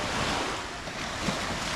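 Sea surf washing onto a beach in Vlorë, Albania, a steady broadband wash of waves close by, with no clear breaks and some wind noise over the microphone.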